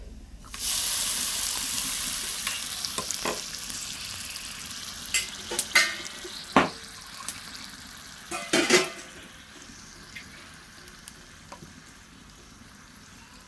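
Shrimp fry in hot oil with a tempering of nigella seed and dried chilli, a steady sizzle punctuated by sharp clinks and scrapes of a utensil against the pan, with no talking.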